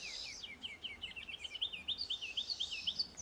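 Siskins calling at feeders: a busy run of thin, rising and falling twittering notes, fairly faint over steady background hiss, building into a dense chattering stream.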